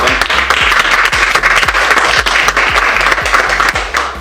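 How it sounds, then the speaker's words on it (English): Applause at a community grant event, heard as a close, lively patter of hands with distinct sharp claps standing out near the microphone, continuing briskly for a few seconds. "That was a very well-deserved applause for you, Haubert."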